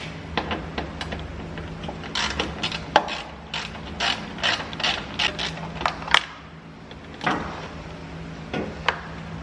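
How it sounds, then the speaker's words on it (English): A ratchet wrench clicks in quick bursts as two 10mm bolts come out of a 2007 Chevy Colorado during a headlight swap; close, crisp ratcheting and mechanical creaks with brief pauses and no talking. "So we've got two 10mm bolts here to remove."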